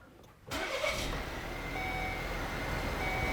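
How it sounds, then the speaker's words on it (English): Volvo car engine starting, a sudden crank-and-catch followed by a steady idle hum with a faint tonal whine, close and moderate in level. "I'm going to start the car up once again."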